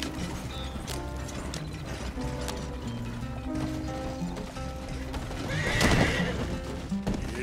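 Horses pulling a wagon in Red Dead Redemption 2, with steady clip-clop hooves, creaking and rattling wagon wheels, and a loud whinny near the end.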